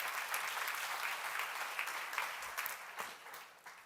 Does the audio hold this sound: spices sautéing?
no